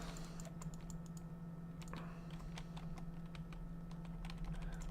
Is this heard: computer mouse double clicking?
yes